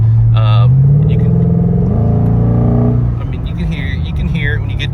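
A deep V8 exhaust on a 2010 Ford Mustang GT 4.6L with a Borla S-Type axle-back revs up, rising in pitch and rumbling loudly for a few seconds before settling back to a throaty idle, with voices nearby.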